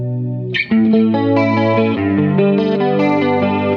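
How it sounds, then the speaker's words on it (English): Electric guitar chords through a Boss GT-8 processor on a clean twin amp setting ring out clean and full through chorus and delay effects, sustained and bright, played alone without any voice. "Clean twin."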